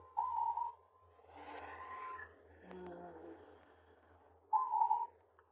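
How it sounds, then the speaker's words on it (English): A bird calls outdoors, heard faintly through a window: two short bright chirps, one near the start and one near the end, with a low murmur and soft background noise in between. "that's a bird outside, by the way,"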